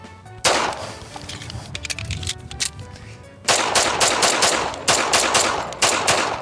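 An old 1911 pistol, more than 110 years old, fires a run of sharp, loud shots at an uneven pace, with a short pause partway through before the shooting resumes in steady strings.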